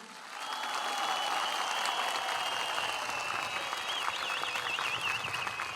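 Loud, sustained applause from a large outdoor crowd in a public square in Antalya, honoring graduates of Akdeniz University and other universities, with a shrill whistle-like tone wavering through it near the end.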